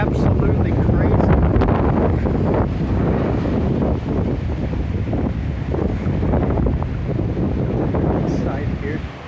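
Strong gusting wind buffets the microphone at McCarran Airport in Las Vegas, gusts near 40 mph, a loud continuous roar with surging low rumble throughout, while a person talks under it.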